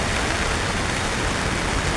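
Heavy rain pours down in a steady, dense broadband hiss that stays loud and even throughout, with no voices.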